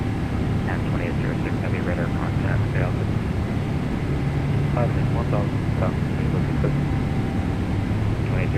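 A Boeing 777-300ER departs in a flight simulator game, giving a steady, loud, continuous engine roar and rumble throughout, with faint chirping tones and radio-like voices speaking under it.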